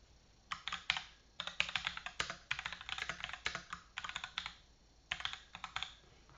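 Fingers type quickly on a computer keyboard nearby, tapping in short bursts with brief pauses between runs of keystrokes.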